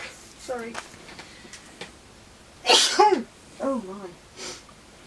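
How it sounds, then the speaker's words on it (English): A woman sneezes loudly a couple of times, close by, with a short sniffle in between and brief vocal sounds before and after. "Don't control your sneezing, woman."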